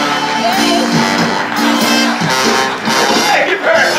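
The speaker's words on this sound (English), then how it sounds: "How about another round of applause?" Audience on the Island Princess cruise ship cheers and shouts in a dense, continuous crowd roar with whoops, loud and close, with a broad wash of noise and voices throughout.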